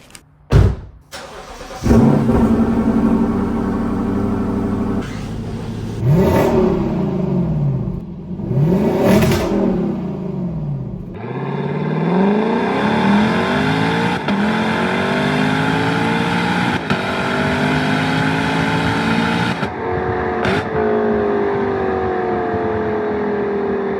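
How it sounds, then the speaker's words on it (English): A Lexus LC500 engine starts with sharp blips, then revs hard repeatedly, its exhaust note rising and falling loudly before a long sustained climb through the gears. "And where did this exhaust note come from?"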